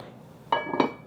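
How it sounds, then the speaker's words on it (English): A metal lid set onto a cooking pot of simmering Vietnamese chicken pho, giving two close clinks about a quarter second apart over a quiet kitchen background. "we're gonna put the lid on"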